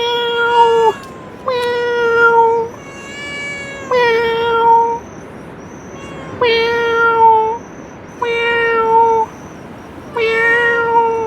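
A person imitating a cat's meow, a series of about seven loud, close, drawn-out meows with short pauses between them, each sliding in pitch.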